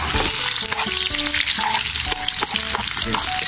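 Garlic and onion saute in a pan as the base for chicken bringhe, producing a loud, dense, unbroken sizzle with faint stirring clicks throughout.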